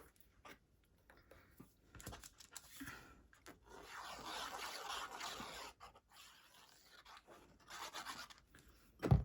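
Paper rubbing and scraping as a cut scallop-edged paper circle is pressed and smoothed down to adhere it on a craft tag, soft close friction sounds in uneven strokes.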